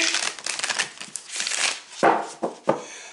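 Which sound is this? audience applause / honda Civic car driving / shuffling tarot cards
shuffling tarot cards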